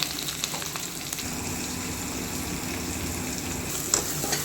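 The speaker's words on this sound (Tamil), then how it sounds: "கருவேப்பிலை போட்டு வெங்காயம் தக்காளி பெருஞ்சீரகம் எல்லாம் போட்டு வதக்குன்னு வதக்குறாங்க" Onion, tomato, curry leaves and fennel sautéing in oil for a chicken gravy, a continuous close crackling sizzle with occasional stirring clicks, steady and without voices.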